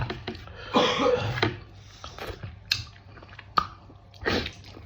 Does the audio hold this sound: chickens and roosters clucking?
no